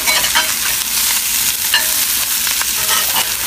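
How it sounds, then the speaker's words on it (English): Potatoes and onions fry in a cast iron sauteuse pan while being stirred, a loud close sizzle with scraping and clattering strokes running steadily throughout, no voices. "And we're just going to stir that up."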